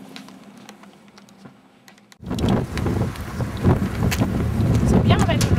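Wind blowing outdoors in the south of France, quiet rustle at first, then strong buffeting gusts hitting the microphone loud and close, with a voice speaking over it.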